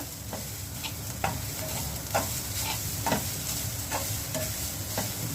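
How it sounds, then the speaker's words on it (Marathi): Grated coconut and raisins roasting in ghee for ukadiche modak, with a soft continuous sizzle broken by regular scraping strokes of a spatula stirring the mix, close up, no voices. "त्याला माझं सगळं खोबरं टाकून तुपामध्ये भाजून घेते"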